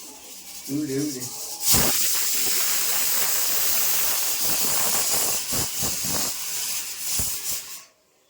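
A loud, steady hiss of escaping steam from a pressure cooker runs for several seconds after a brief voice, with a few thumps, then cuts off abruptly.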